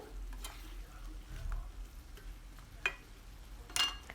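Sliced zucchini is stirred in a frying pan, a faint sizzle underneath with scattered light scrapes and clicks of the utensil against the pan.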